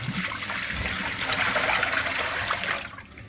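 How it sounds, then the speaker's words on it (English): Water poured from a quarter-filled bucket into a kitchen or bathroom drain just cleared with a rubber bladder, a steady close splashing gush that tapers off near the end. "we pour this water"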